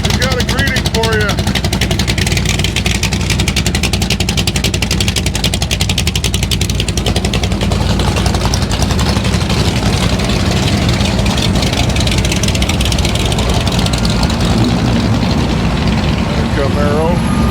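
A Camaro engine at a rat rod car show rumbles loudly and continuously up close, a deep steady throb with slight rises in revs, while crowd noise and talk sit underneath.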